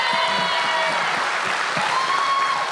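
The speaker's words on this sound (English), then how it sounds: "you can clap it up for my guy Tay." Short stretch of steady applause, dense close clapping with faint voices murmuring underneath.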